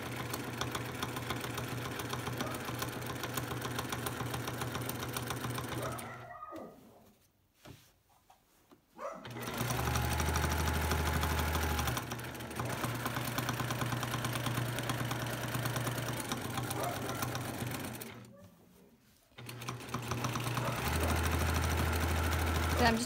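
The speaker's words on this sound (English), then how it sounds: "I am simply going to sew all the way around the outside of the stocking." A sewing machine stitches around the edge of a free-motion quilted Christmas stocking with a fast, steady mechanical whir and knock, pausing twice and then resuming.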